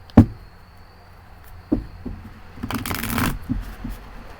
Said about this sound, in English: I'm going to pull 3 cards, past, present, and future of your week.